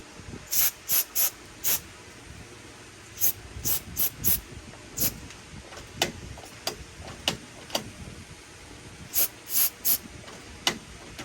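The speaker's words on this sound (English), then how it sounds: "Might have to spray some grease on it." Short sharp bursts of aerosol grease spray on a Schlage keypad deadbolt lock, hissing in quick clusters of two to four with pauses between, close and fairly loud.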